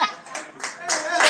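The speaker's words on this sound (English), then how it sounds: "people are clapping. Clap for me." Clapping from a class at an in-person community wiki workshop in Nigeria, a short burst of several people's hands that rises and falls over about a second, fairly close.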